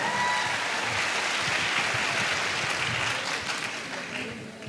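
Applause from an event audience at an AWPL Nalagarh gathering, a broad steady wash of clapping that fades slightly toward the end, heard alone without talk.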